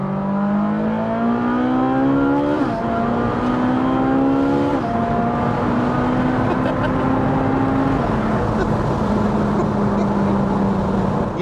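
A supercar engine revs hard and close, the loud steady roar stepping upward through several gear-like climbs and drops while the engine is held at high revs for over ten seconds.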